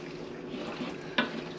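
Spinach is stirred into a roasted veggie and ricotta pasta bake: a steady soft sizzle and scraping mix, with one sharp utensil clack near the end.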